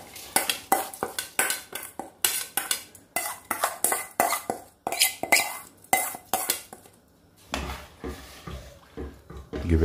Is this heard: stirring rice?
yes